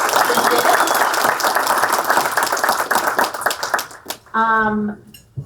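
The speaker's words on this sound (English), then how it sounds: "So a little round of applause for those folks." An audience at a Buffalo State of the City event gives sustained applause for sponsors, fading out near the end before a speaker resumes talking.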